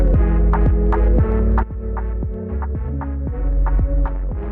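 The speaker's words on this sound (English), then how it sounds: "I could do a supercharge and like get it a little bit crunchy" A lo-fi loop with crunchy supercharge distortion, a thick, buzzy, saturated bass-heavy tone with steady rhythmic pulses and repeating note attacks, loud and alone with no talking.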